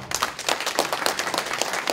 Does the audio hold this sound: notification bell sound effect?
no